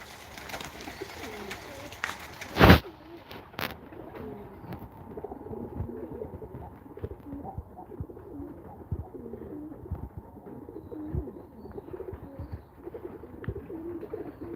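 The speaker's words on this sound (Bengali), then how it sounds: "কবুতরগুলা" Pigeons coo steadily in soft rolling calls, close and continuous, with one sharp knock partway through.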